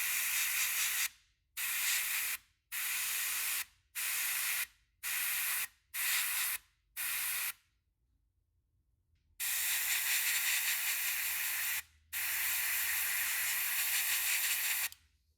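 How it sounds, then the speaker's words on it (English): Varnish hisses from a spray can onto a handmade wooden trout fishing lure, first in a series of short even bursts, then after a pause in two longer steady blasts, close and alone. "So I'll get back to you after I've sprayed some varnish on there."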